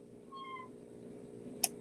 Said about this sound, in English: I heard the cat in the background.